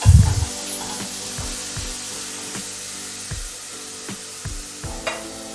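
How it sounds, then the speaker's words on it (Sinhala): Washed rice, keeri samba, tipped into a pot for one-pot chicken rice, with a loud sizzling rush at the start, then a repeated rhythmic scraping of a spoon stirring the grains in the pot. "ඊට පස්සේ අපි හොදගත්ත හාල් ටික මේකට එකතු කරනවා"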